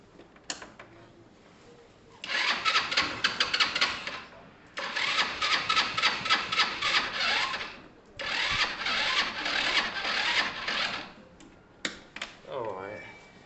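An engine with an old carburettor cranks over without catching, in three long bursts of rhythmic starter churning separated by pauses, the last slowing as the battery drains, followed by a few short clicks.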